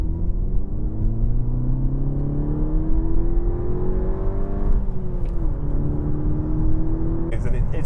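A VW Golf GTI mk6 engine accelerating from inside the cabin, a rising throaty drone climbing through the revs, dipping briefly at a gear change before pulling again under a steady road rumble.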